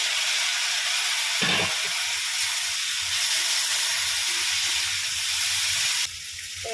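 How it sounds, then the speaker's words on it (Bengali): Tomatoes sizzle in a pan of fried onion, ginger and garlic, giving a steady broadband hiss that runs unbroken, with a brief clatter near the start and a slight drop in loudness near the end. "2খানা টমেটো দিয়ে দিলাম এর মধ্যে"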